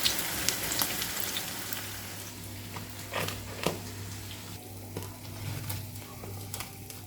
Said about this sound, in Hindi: कबाब को हमने गोल्डन ब्राउन होने तक फ्राई करना है